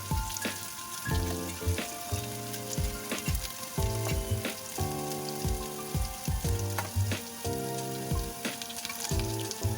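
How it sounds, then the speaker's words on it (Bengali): Pieces of taro (maan kochu) fry in a pan for a vegetarian dish, giving a continuous close sizzle with scattered pops and crackles throughout, and no talking. "এবার কচুগুলো আমার আস্তে আস্তে ভাজা হচ্ছে"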